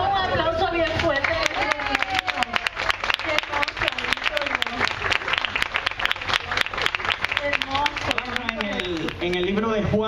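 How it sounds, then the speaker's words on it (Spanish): Congregation at a church service applauding loudly, a dense, sharp burst of clapping that carries on throughout, with voices and cheering rising through it. "Bendito Dios, para un aplauso bien fuerte."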